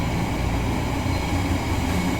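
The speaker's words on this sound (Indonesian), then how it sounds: "Nah, ini ada kereta api." A train passes near a house along a railway line, giving a dense, continuous rumble and clatter that stays even and loud throughout, with no voices over it.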